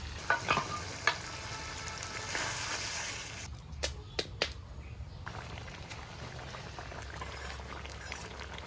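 Fried potatoes and eggplant cook in a pan of spiced masala with turmeric and salt, giving a steady sizzle and bubbling. A few sharp clinks and scrapes of stirring break in midway, then the simmer carries on alone.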